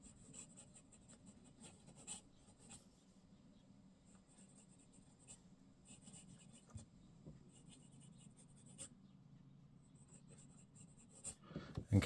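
Italix Chaplain's Tankard fountain pen with a left oblique nib writing fast on paper: soft, close scratching strokes in quick irregular runs, faint against a low background hum.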